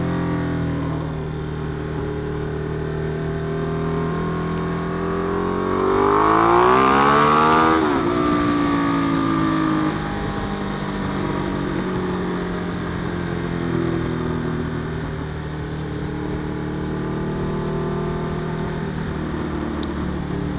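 A Ducati XDiavel S motorcycle ridden on the road, its engine holding a steady drone, with one rising and falling rev swell around the middle of the clip, close and continuous.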